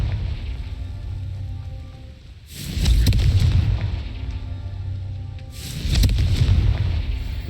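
The Confringo fire spell in Hogwarts Legacy sets off two heavy, booming blasts a few seconds apart, each rumbling loudly before fading back into a low ambient drone, with no voices.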